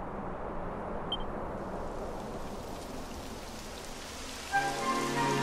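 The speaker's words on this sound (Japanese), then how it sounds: "やだ、雨が降ってきたわ。" Steady rain hissing down in Dragon Quest XI S, a continuous wash of falling water over the whole stretch, with a brief brighter patter joining near the end.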